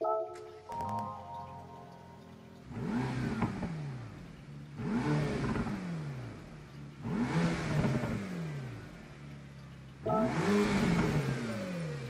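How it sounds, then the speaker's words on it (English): A 2020 Mercedes-AMG GT Black Series in Gran Turismo 7 starts up, then revs in four loud, evenly spaced bursts, each climbing and falling back to a rumbling idle, with no voices. "I'll click on this car, we'll listen to the startup sound"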